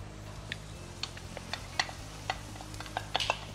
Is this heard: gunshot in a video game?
no